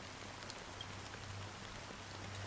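Steady fine drizzle of rain falling in a game world from Honkai: Star Rail, a soft continuous hiss throughout with no talking, even and unbroken from start to end.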